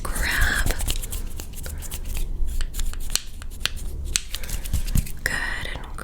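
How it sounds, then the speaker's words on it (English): Professional wooden scissors snip through hair during a fast, aggressive ASMR haircut, the sharp crisp cuts repeating irregularly up close under soft whispered talk and faint rustling. "We're going to use the professional wooden scissors now for this part."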